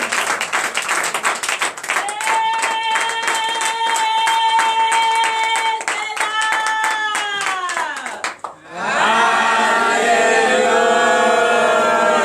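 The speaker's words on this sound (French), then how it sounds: "je vous prie très très fort d'acclamer au nom de Jésus" A church congregation claps hard and fast with loud voices acclaiming, sustained and close; a sung or shouted tone rides over the clapping, then the sound shifts into a dense wave of cheering and rhythmic clapping.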